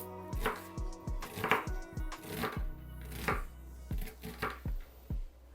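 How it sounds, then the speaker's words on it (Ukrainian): Rapid knife chops on a cutting board as an onion is cut, close and crisp, in an uneven rhythm of a dozen or so strikes with no talking. "А поки вариться рис, ми покришимо 100 грам цибулі"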